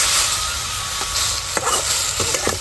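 Okra cooking in a pan after yogurt is added, a constant soft hiss of simmering and sizzling broken by a few clacks and scrapes of stirring, close by and with no speech.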